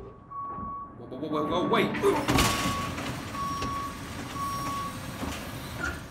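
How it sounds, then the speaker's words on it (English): A cartoon garbage truck sounds steady reversing beeps under a rumbling engine, with a sharp clatter partway through and a voice speaking briefly over it. "Just landed in the garbage truck"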